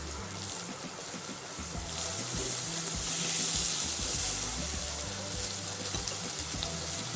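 Sliced onions with ginger and garlic sautéing in a pan for a potato stir-fry, giving a steady, close broadband sizzle that swells slightly midway and carries on without any voices.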